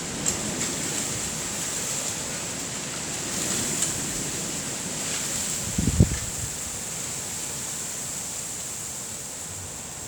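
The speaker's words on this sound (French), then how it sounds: "il y a des sacrées bourrasques de vent. Ça souffle à 76 km/h, là." Strong wind gusts from storm Ciara blow through Lyon, a continuous broadband roar with surging swells and one sharp buffet of wind against the microphone, no voices.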